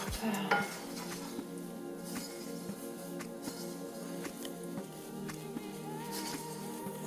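Wet cake ingredients with two eggs being mixed in a bowl, a steady quiet scraping and clinking of a utensil against the dish in repeated strokes, faint and close.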